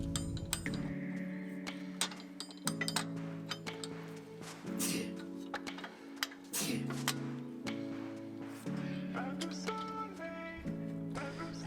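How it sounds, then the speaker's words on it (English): Metal clinks, ticks and small tool sounds come from bolting a spacer and Superior Engineering Hyperflex suspension arms together, with sparse taps over a steady tonal backing, close and fairly quiet. "installing the spacer and then bolting it all together"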